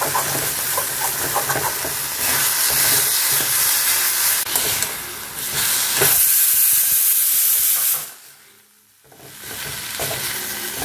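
Minced meat (keema) cooking in a pan, a continuous loud sizzle and hiss with stirring scrapes, briefly dipping quiet before the frying resumes.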